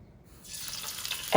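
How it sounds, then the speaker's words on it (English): Avocado oil poured into a heated wok gives a soft rising hiss and light sizzle that builds over about a second, ending in a sharper crackle up close. "I have my wok already heated, and I'm just going to pour about 2 teaspoons of avocado oil in here"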